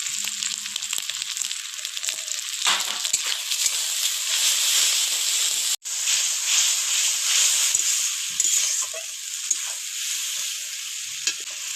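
Masala paste fries in a pan for a fish recipe, a continuous loud sizzle with scraping stirs and a brief break partway through.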